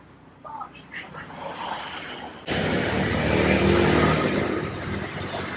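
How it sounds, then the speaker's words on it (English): Busy street traffic with a steady rumble of passing cars that jumps louder partway through, heard outdoors under light background voices. "There's a street, there's too much noise."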